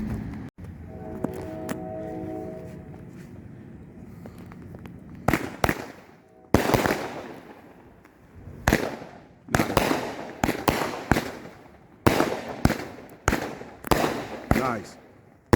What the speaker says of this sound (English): we're gonna do the Bee Sting and the Optimus Explosion.